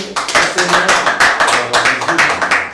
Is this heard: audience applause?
yes